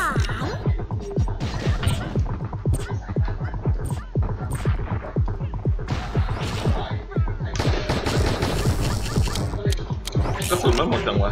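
Rapid gunfire in the online shooter game Lost Saga, dense bursts of shots and impacts in quick succession, with excited talking mixed over the top.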